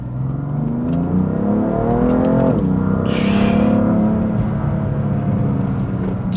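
A BMW M340i sports car engine revs up loudly and accelerates hard, pitch climbing steadily, then a sharp high whine mid-way as the roar continues close by.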